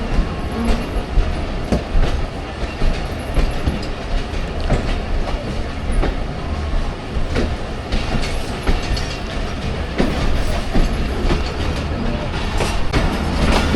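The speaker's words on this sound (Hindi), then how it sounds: "हाफजाबाद से डिपार्चर हो गया हमारी ट्रेन का" The 47 Up Rehman Baba Express rolls out of Hafizabad station, a loud continuous rumble with rhythmic clickety-clack of wheels over rail joints and brief metallic squeals, heard from inside the train without talk.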